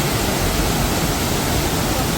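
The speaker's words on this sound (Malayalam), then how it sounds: "നല്ല ഒരു വിരുന്ന് തന്നെയാണ് സൂചിപ്പാറ വെള്ളച്ചാട്ടം" Soochipara waterfall in Wayanad roars steadily as a loud, unbroken rush of falling water, with no other sounds rising above it.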